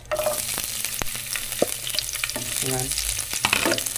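Garlic frying in oil in a pan gives a steady, close sizzle with scattered spatters and the scrape of stirring, and a voice speaks briefly.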